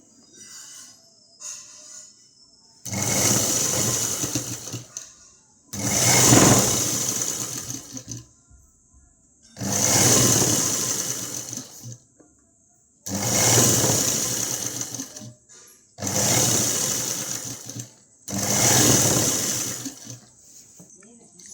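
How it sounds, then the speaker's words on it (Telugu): A sewing machine stitches a blouse in six steady bursts of fast whirring, each a few seconds long, separated by short pauses with quiet handling sounds. "క్లాత్ని అయితే మొత్తం స్టిచ్చింగ్ చేసుకోవాలి"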